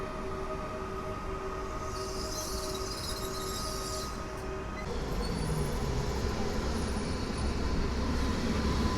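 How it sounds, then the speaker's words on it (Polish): A Pesa Elf electric train pulls in on line S1 toward Pruszków at Warszawa Włochy, a steady rolling rumble with a sustained whining tone and faint high squeal, growing slightly louder as it arrives. "Wjeżdża Elf na linii S1 do Pruszkowa."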